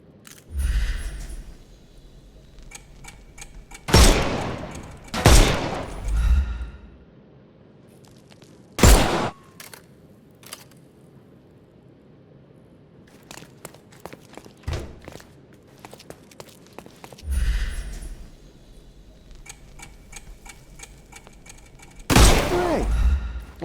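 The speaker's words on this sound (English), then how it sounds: "Shoot off their armour." Gunshots in the Sherlock Holmes Chapter One video game ring out as a few loud, sharp single blasts and short pairs spread irregularly over the stretch, with quieter footsteps and faint clicks between them.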